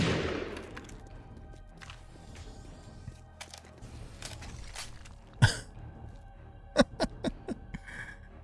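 Gunfire in the video game 7 Days to Die, a 7.62 weapon on insane nightmare difficulty, heard as one sharp shot mid-clip, then a rapid cluster of four or five cracks near the end over quiet background rustle.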